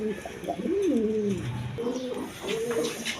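Bombay pigeons, including a hen, coo in low, throaty, rolling phrases close by, repeating a few times over a busy outdoor background hum with faint chirps.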